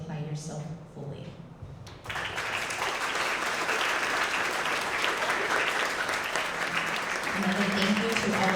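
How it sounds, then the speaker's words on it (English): A school audience applauds student award winners, a steady wash of clapping that starts abruptly after a brief stretch of talk and keeps going at an even level to the end. "a round of applause for them"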